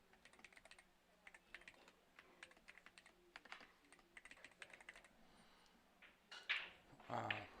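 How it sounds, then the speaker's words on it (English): Quick bursts of keystrokes on a computer keyboard, faint and close, typed in irregular runs with short pauses, followed by a couple of louder bumps and rustles at the end. "So don't mind me typing."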